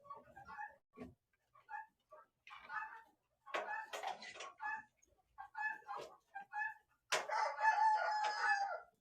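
Several roosters, part of a group of five, give short bursts of crowing and clucking, ending in one loud, close, drawn-out crow.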